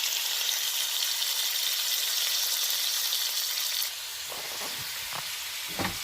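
Beef and other ingredients sizzle and fry in a pan, a steady bright hissing crackle that eases slightly partway through, with a few soft clinks of stirring toward the end.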